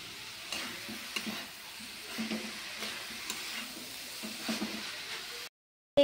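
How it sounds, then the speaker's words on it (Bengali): Cabbage cooking in its own released water in a covered pan gives a low, faint sizzle with occasional soft stirring, then a short silence and a brief final bump. "আমরা ভালো করে ঢাকা দিয়ে দিয়ে বাঁধাকপিটাকে কষিয়ে নেব।"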